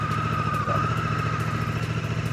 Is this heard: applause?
no